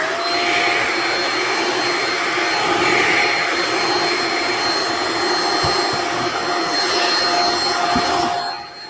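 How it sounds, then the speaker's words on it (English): A shop vacuum sucks up plastic grinding debris from a Dremel guitar modification, roaring in a loud, steady whine throughout, with a few small clunks near the end as it cuts off. "let me go ahead and suck this up with the vacuum here"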